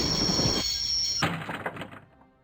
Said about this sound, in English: I'd always wanted to stop a train, and now was my chance